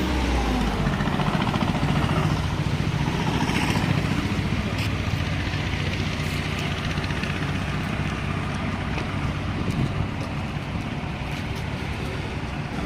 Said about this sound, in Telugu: యువత కొంతమంది మోటార్ సైకిల్స్ హెవీగా సౌండ్ సైలెన్సర్స్తో చేస్తూ శబ్ద కాలుష్యం చేసి